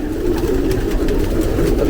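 A recently returned pigeon, moulting heavily, coos in a low, steady, rounded murmur close up, continuous and fairly loud for its brief length.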